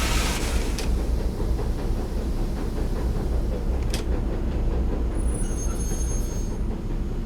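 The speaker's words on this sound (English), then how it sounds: "we're now getting wheel slip as we're slowing down as well" A Class 60 diesel locomotive in Train Simulator 2015 slips its wheels while braking on a downhill gradient, giving a loud continuous rolling rumble with high squealing tones from the wheels and rails.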